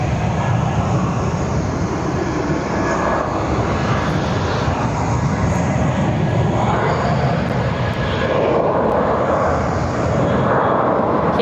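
A KLM airliner taxis at Barcelona airport, its jet engines giving a continuous, broad roar that swells and eases slightly as it moves.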